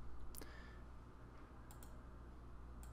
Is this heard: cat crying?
no